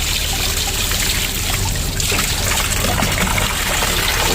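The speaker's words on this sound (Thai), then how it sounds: "แล้วลุงก็เติมน้ำให้บ่อปลาสักหน่อยนะครับ" Water pours continuously into a fish pond as a loud, close, steady trickling splash that lasts throughout.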